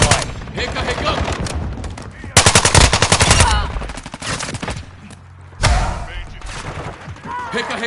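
Automatic weapons in Call of Duty Modern Warfare 2 multiplayer fire in loud, rapid bursts with several heavy volleys and pauses between, while voices talk over the shooting.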